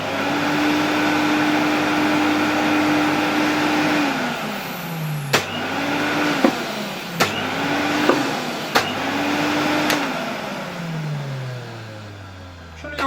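A 1973 Electrolux Z320 vacuum cleaner motor hums steadily with a few sharp clicks, then its whine slowly winds down as it switches off.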